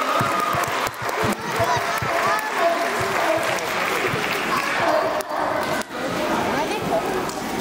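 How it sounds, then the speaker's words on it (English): Spectators at a sea lion show clap in a lively round of applause, loud and sustained with a few brief dips, while voices murmur through the crowd. "give off a big round of applause for Shark"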